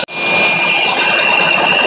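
A Dust Buster blows air into a burning tree stump, giving a steady loud whooshing roar with crackling fire noise, starting abruptly after a brief click and holding constant.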